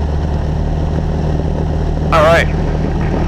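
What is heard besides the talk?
Cessna 172SP engine during takeoff roll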